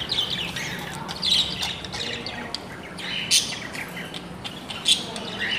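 Budgerigars in their breeding setup give sharp squawks and quick chirps over a steady bed of twittering, several louder calls popping out at intervals, fairly close.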